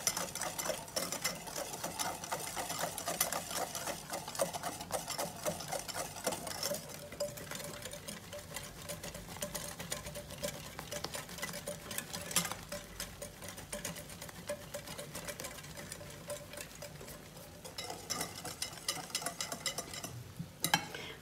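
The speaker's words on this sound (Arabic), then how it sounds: "وكنخلطو. كندوبو داك السكر مزيان." Sugar being stirred into a mandarin (tangerine) cake batter until it dissolves, a steady scraping swirl of spoon or whisk against the bowl running continuously, close and fairly quiet, with no talking.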